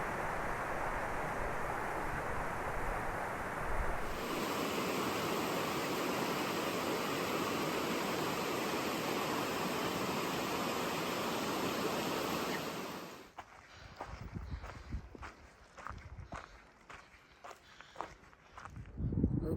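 Creek water at Hat Creek on the Pacific Crest Trail rushes in a steady, full hiss for most of the clip, then drops away as crunching footsteps on the trail take over near the end.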